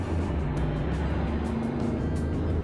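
A car driving in a Shin Chan cartoon, heard as a steady, loud engine hum and road rumble that runs without a break and with no talking.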